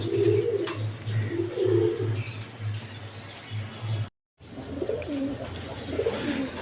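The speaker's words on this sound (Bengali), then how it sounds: "লটন কবুতর আছে।" Lotan pigeons coo in repeated low, rolling phrases, close by and fairly loud, with a brief silent gap partway through before the cooing resumes.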